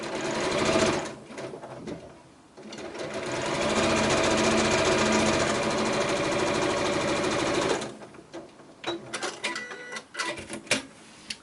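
A sewing machine runs straight stitching on a scrappy pointed-arrows quilt block, a steady close mechanical whir that holds for several seconds, then breaks into short stop-start bursts of stitching and clicks.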